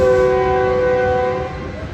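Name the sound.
passing train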